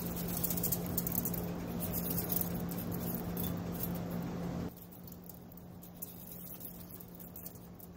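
Boondi batter frying in hot oil for motichoor laddu, a steady close sizzle and crackle that drops abruptly to a quieter fizz partway through, with no talk.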